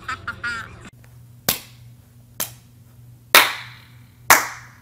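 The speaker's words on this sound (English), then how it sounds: "Slow clap for Zayn." Four sharp, isolated hand claps spaced about a second apart in a slow, deliberate rhythm, close and loud, following a brief snatch of voices at the start over a low steady hum.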